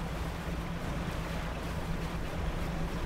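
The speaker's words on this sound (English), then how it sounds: "And the waves are making me bouncy." Steady ocean waves and wind wash around a small fishing boat in the video game Dredge, a continuous close hiss and rumble with a faint low engine hum beneath, no talk.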